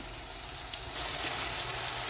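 A blended paste of tomato, onion, ginger and garlic goes into hot oil for a broccoli and green pea curry. Quiet pan sounds give way to a loud, steady, close sizzle, with no voices.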